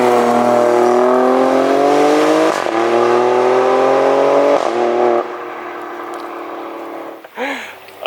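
A 2018 Alfa Romeo Stelvio Quadrifoglio SUV with a 2.9-litre twin-turbo 505 hp engine accelerates past: a loud, rising engine note with several quick gear-shift breaks, then it drops off as the SUV pulls away.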